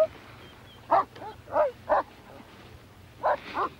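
A dog barks in several short separate yaps, moderately distant, with a faint low hum in the background and no talk.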